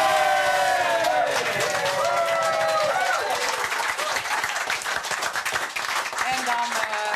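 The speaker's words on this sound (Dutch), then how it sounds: "nog even een keer voor jezelf alweer een dik applaus" Applause and crowd noise swell into a thick continuous wash, with voices and cheering mixed through it and a steady, loud level throughout.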